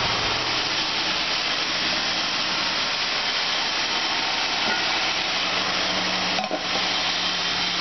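A 1984 Oldsmobile Ciera convertible engine with a rod knock runs at a steady idle, a continuous close mechanical drone with one brief dip and thump near the end and no voices.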